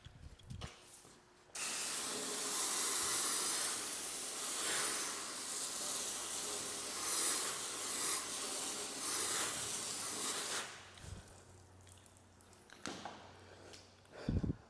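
Water spray rinsing a tire after a Turtle Wax acrylic/ceramic tire coating treatment hisses steadily and close for several seconds, stops abruptly, then gives way to faint handling noises.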